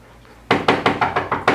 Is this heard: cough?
no